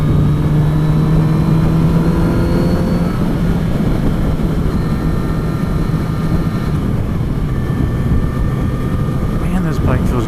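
A 2018 Kawasaki Z900RS motorcycle engine drones steadily while riding, with a low rumble and shifting tonal whine that changes pitch partway through, mixed with constant wind rush.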